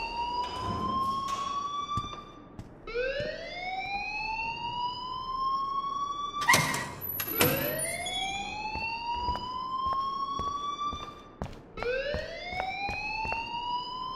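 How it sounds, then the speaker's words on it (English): A fire alarm in the Life Is Strange video game rings loud and close in repeated rising electronic wails, broken by sharp bursts, with no voices over it. "please turn off that alarm since that's your job"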